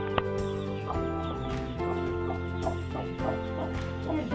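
A hen of the Cochin breed clucks softly alongside her late-hatched chicks, near and steady, with repeated short clucks and peeps over a low continuous background hum.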